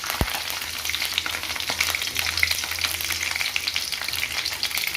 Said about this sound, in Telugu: పల్లీలు, జీలకర్ర, నువ్వులు, ఇవన్నీ ఇట్లా కొంచెం వేపుకోవాలి. కొంచెం నూనె వేసుకొని మిరపకాయలు,